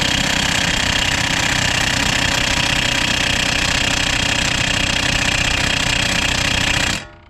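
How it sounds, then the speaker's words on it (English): A loud, continuous mechanical hammering rattle from a power tool working on a front strut bolt of a 1998 Toyota Camry runs steadily for about seven seconds, then stops abruptly. "So I managed to wedge that ratchet in there."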